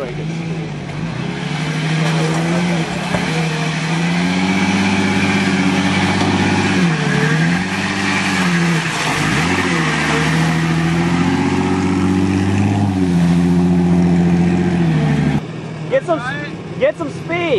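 A Jeep engine drones loud and close while off-roading at Sutton Lake, revving up and down in long surges, then dropping away near the end as voices and other noises take over.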